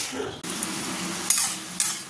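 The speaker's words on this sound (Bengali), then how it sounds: "আবার এই মাছ তো এখন ফাটা শুরু করবে। চলো ভেজে নিই।" Fish coated in turmeric sizzles steadily in hot oil, a close, continuous hiss broken by a couple of sharp spatters and faint utensil scrapes.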